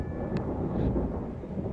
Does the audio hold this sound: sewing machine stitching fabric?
no